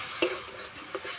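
Amaranth greens stir-fried in a pan, a soft steady sizzle with two brief scraping clinks of the spatula against the metal, close and quiet.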